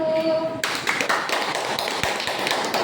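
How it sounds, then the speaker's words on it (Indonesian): Classroom applause for a student group after their presentation, starting abruptly after a brief tone and continuing as a loose, uneven patter of a modest number of hands, with occasional sharper taps. "Tepuk tangan untuk kelompok 1."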